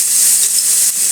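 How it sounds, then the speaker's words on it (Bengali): Ginger paste drops into onions frying in a pan, giving a loud, brief, hissing sizzle that holds steady for about a second. "ভাজা হয়ে এসেছে। এবার এর মধ্যে আমি দিয়ে দেব আদা বাটা,"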